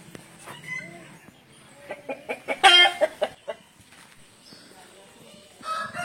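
An Aseel rooster of about 3 kilograms crows loudly in the middle, with softer clucks and scattered bird calls before and after on a farm.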